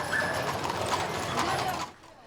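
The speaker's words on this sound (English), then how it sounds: "The horse-drawn wagons rumbling through the historic towns of the Sierra Nevada foothills" Horse-drawn wagons roll through historic gold-country towns in the Sierra Nevada foothills of Amador County, California, with a busy clatter of hooves and rumbling wheels, close and steady, before stopping abruptly.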